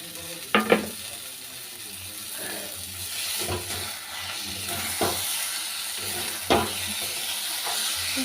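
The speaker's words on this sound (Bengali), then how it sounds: "তারপর তরকাটা ফুটছে হয়ে এসছে" A pan of curry sizzles and bubbles steadily with a constant frying hiss, broken by a few sharp scrapes of a spoon, close and clear, without voices.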